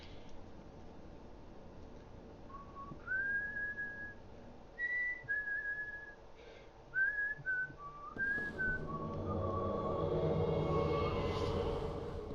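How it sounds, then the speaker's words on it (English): A person whistles short melodic phrases of film themes, a string of clear sustained notes with small pauses between them. A louder hissing background noise then swells up as the whistling stops. "It's whistling film themes."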